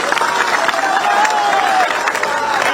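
Applause and cheering from a large crowd at an Akhilesh Yadav election rally in Chandla, Madhya Pradesh, a steady roar of clapping and voices that holds at the same level throughout, with a faint shouted tone rising above it.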